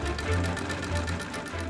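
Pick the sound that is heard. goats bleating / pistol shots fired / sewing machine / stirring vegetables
sewing machine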